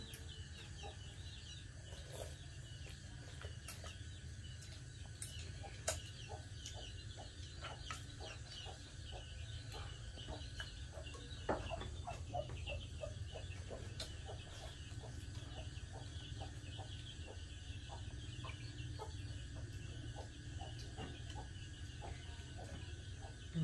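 Chickens clucking around a farmyard, a faint, steady scatter of short clucks and calls over a constant low background hum, with no talking.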